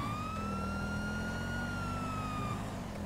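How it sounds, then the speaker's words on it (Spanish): A steady police-style siren wails continuously over a low engine rumble, loud and close, with a slow rising and falling tone, in the video game GTA 5 Online. "Apago las sirenas, apago las luces."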